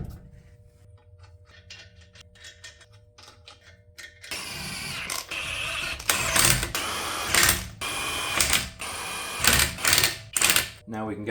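Rapid ratcheting clicks come from lug nuts being tightened as wheels go back onto a 2011-2019 Ford Explorer after suspension work, loud clustered bursts breaking a quieter hum, with a voice talking in the first seconds.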